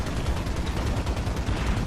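Gunfire strikes a radiator in a game, a rapid, steady run of close, loud shots and impacts filling the whole short stretch with no pauses.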